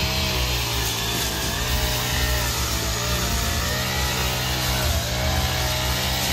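A petrol grass cutter runs steadily at high revs, a loud, continuous buzzing engine drone heard close up outdoors with little variation.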